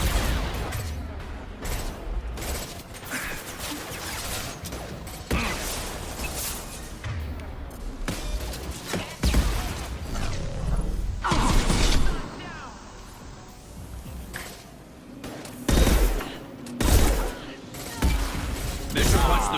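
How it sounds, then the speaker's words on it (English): Gunfire and weapon blasts from the Mass Effect game, sharp repeated shots and heavy impacts scattered irregularly through a loud battle, mixed with game voices and effects. "Firing a high-impact shot!"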